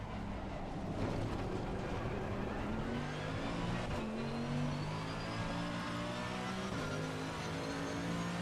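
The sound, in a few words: race car engine at Spa in a racing video game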